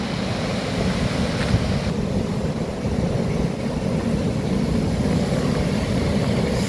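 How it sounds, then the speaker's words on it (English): Waves rolling in on the sea below Hendon Beach jetty on a bright morning, a steady wash of surf mixed with wind buffeting the microphone, continuous and fairly loud, no voices. "See the lovely white tops on the waves."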